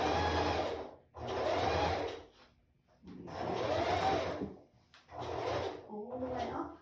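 A sewing machine stitches the band of a strapless bra, running in four loud whirring bursts of a second or two each, separated by short pauses, close by with no talking.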